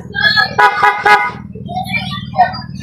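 Car horns blare in a busy street market, with several loud toots and a multi-tone honk up close over a low engine rumble, while people talk nearby.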